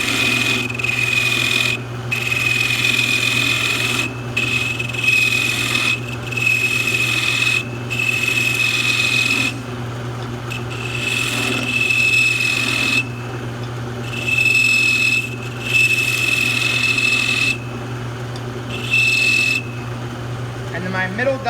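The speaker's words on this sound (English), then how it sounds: "To do this, we're going to use a nose shaving cutter." Nose shaving cutter scraping a small wooden knob spinning on a lathe, a steady rasping shave in repeated passes of a few seconds each, with a constant low motor hum underneath and brief pauses between cuts.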